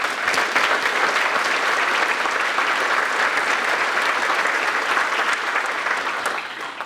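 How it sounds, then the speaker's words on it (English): An audience at a Founders' Day gathering of the Lyman B. Kellogg Society applauds new members, with dense, steady clapping that holds strongly for about seven seconds before easing slightly at the end. "Let's give them a round of applause"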